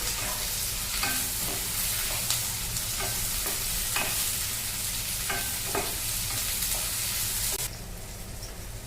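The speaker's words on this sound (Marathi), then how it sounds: "आता टोमॅटो टाकत आहे। मिरची हे फ्राय करून घेत आहे मी।" Tomatoes and chillies fry in a pan with a steady, loud sizzle, broken by occasional scraping stirs of a spatula; the sizzle drops slightly near the end.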